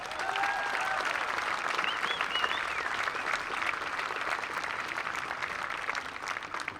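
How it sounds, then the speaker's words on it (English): A crowd at a Newport Gulls versus Upper Valley Nighthawks baseball game applauds for camp attendees, a dense, steady wash of clapping with a few cheers and whistles, heard at a distance and fairly faint. "Let's give them all a round of applause."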